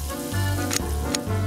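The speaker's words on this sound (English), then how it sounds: "It's time to warm up the frying pan." Donuts fry in a hot pan with a steady sizzle under a droning hum, cut by two brief louder crackles.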